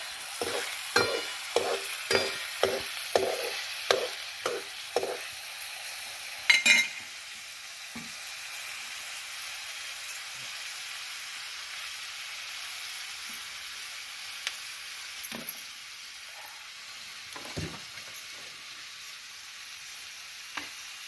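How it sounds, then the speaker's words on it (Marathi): Chopped onion is stirred and sautéed in a hot pan for shev bhaji, a series of regular scraping strokes up front over a soft continuous sizzle, then quieter frying with occasional clinks. "कांदा परतावा लागतो ग. हा कांदा परतल्याशी"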